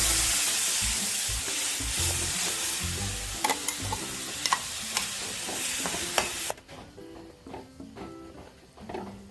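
Ground curry-leaf paste poured into an egg curry in a frying pan, with loud sizzling and scraping stirs and spoon taps that fade to quieter bubbling near the end.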